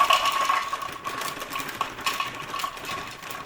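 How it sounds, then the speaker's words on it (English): A small handheld food processor grinds cashew nuts with a steady, thin motor whine and light rattling. The sound is moderately quiet and continuous, with no talking. "I'm going to grind up some cashew nuts. So I've got a little food processor, a little handheld food processor"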